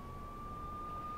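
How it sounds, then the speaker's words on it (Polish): Police sirens wail steadily in the Max Payne video game, a single sustained tone held over a dense rumbling low background, fairly quiet throughout. "Słyszałem coraz głośniejsze wycie syren."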